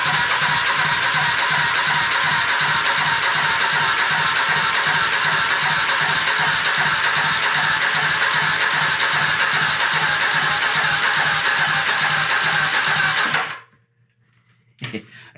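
A Kodiak engine cranks over on its starter to prime the oil after the ignition was left on all night, a steady rhythmic chugging whir that runs for about thirteen seconds and then stops abruptly.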